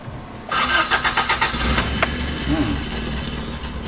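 A Toyota wagon engine cranks with a rapid rhythmic chug of the starter, then catches and settles into a steady close idle.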